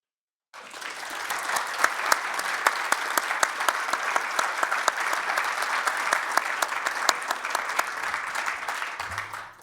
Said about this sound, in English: It was such a natural, like, applause moment.